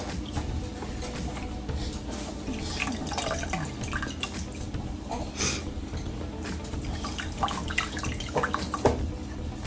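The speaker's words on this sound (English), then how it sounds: "squeeze out the water, put it in a bowl, separate it from the water" Water drips and splashes as boiled fever leaf greens are squeezed by hand over a bowl, a steady close wet trickling with scattered drops and no talking.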